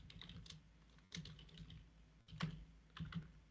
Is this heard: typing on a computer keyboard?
yes